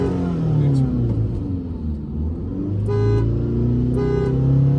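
Skoda Superb TDI and Audi Q3 TDI diesel cars launch side by side in a drag race, a loud steady engine rumble rising as they pull away, with brief horn-like tones and voices talking over it.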